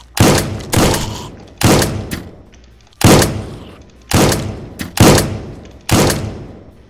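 Video game gunfire as zombies are shot: seven loud, evenly spaced single shots about one per second, each with a sharp crack and a decaying tail, with no voices.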